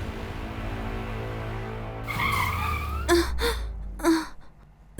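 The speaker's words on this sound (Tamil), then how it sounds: "சார் வண்டி ஏன் நிறுத்துனீங்க?" Vehicle braking hard and skidding to a stop, a rising screech of tires building over a couple of seconds, then sharp bursts and a thud, with no talk.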